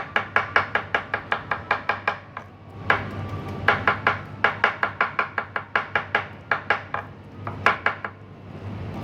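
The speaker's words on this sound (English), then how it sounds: "For the chopping of the gunkans, I'll make the chopped salmons" Rapid, regular knife chops through salmon on a cutting board, sharp clacks in quick bursts with short pauses between runs, close and fairly loud.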